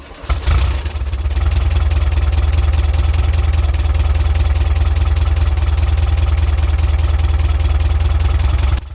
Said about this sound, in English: Now that's how a Type 4 engine should sound. Mellow, relaxed, and unhurried.